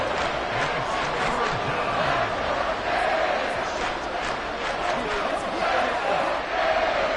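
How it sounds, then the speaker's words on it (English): A stadium crowd roars in the American football video game Madden NFL 24, a dense, steady wall of cheering and shouting throughout, with a commentator's voice over it. "This crowd doing their best to make a lot of racket"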